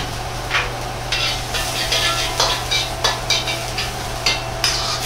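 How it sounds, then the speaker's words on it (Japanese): Garlic and ginger stir-fried in leftover oil in a wok for a shrimp and peanut dish, a steady close sizzle punctuated by repeated scraping strokes of a spatula roughly every half second. "鍋に残った油をしっかりと切ったらニンニク生姜で軽く炒めます。"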